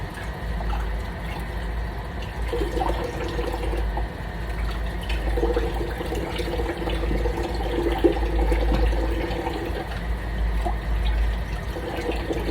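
Running water flows steadily from a tap as a synthetic wig is rinsed under it, a continuous close splashing gush with small shifts as the hair is worked under the stream.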